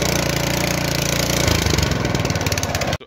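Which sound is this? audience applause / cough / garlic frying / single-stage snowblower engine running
single-stage snowblower engine running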